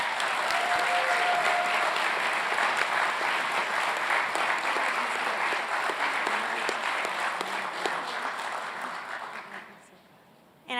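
An audience at a Doctor of Physical Therapy graduation convocation applauds an award winner, sustained hall-filling clapping that runs steadily for about ten seconds before tapering off, with faint voices underneath.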